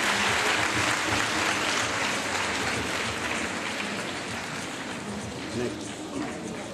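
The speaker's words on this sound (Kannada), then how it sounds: "ಎಲ್ಲರೂ ಚಪ್ಪಾಳೆಯನ್ನ ಹಾಕ್ಬೇಕು" A crowd applauds at a public event, a continuous dense patter of clapping that holds steady throughout and fades slightly toward the end, with a voice faintly under it.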